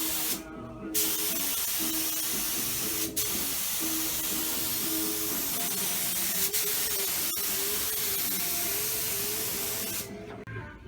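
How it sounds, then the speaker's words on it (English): Primer guide coat sprayed onto a cleaned car hood: a steady, close airy hiss that runs almost unbroken, with a few brief gaps where the spray trigger is released. "We're going to spray one layer of primer,"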